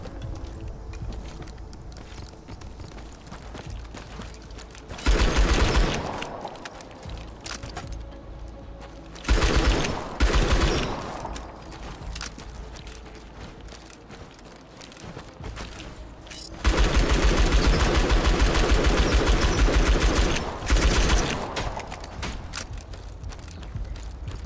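An automatic gun in Outpost: Infinity Siege sprays fire in loud sustained bursts, two short ones and then a long one, over a low ambient game hum.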